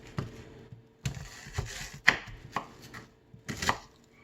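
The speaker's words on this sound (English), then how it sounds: "I'm not going to do the whole onion, just about a quarter of it" An onion being chopped with a knife on a board, giving a close series of sharp, uneven knife chops with brief pauses between them and no talk.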